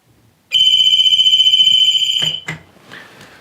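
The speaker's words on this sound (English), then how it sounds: "If the alarm does go off," A sewage ejector pit control panel alarm in a home sounds a loud, steady high-pitched electronic tone for about two seconds, then cuts off, followed by a couple of clicks and faint handling noise.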